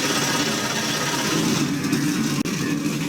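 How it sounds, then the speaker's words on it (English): IndyCar race engines at the Sawmill track idling together on the starting grid, a dense, loud, continuous buzzing roar with a brief cut just past two seconds and no speech. "The engines have been fired up here at Sawmill."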